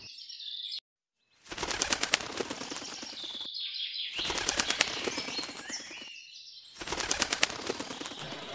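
Flocks of birds beat their wings in three long fluttering bursts, each a dense rapid flapping that stops abruptly, separated by short gaps with faint chirps.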